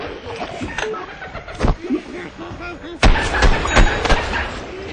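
Sticky explosive ball thrown by the scientist class detonating in Plants vs Zombies Garden Warfare on Xbox 360, heard as sharp close blasts amid game noise, with a voice talking over parts of it.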